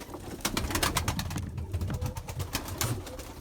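Pigeons in a breeding loft give low, soft coos over a steady bed of rustling and chirping, with scattered sharp sounds from wings or movement throughout.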